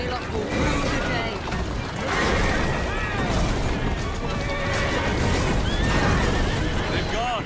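Horse-drawn carriages in Assassin's Creed Syndicate rattle along with loud whinnying horses and clip-clopping hooves, a steady dense clatter with crashes throughout and voices mixed in.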